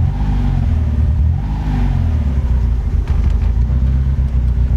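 A turbocharged Toyota AE86 Trueno engine warming up at idle with a faulty turbo, a steady low rumble and hum running continuously at close range with slight rises in revs.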